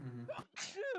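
A single sharp sneeze, close and fairly loud, bracketed by brief murmured voice sounds.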